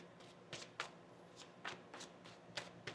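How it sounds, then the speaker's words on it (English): Tarot cards are shuffled by hand in a series of soft, quick riffling bursts, roughly eight of them, quiet and close with no talk. "one more shuffle"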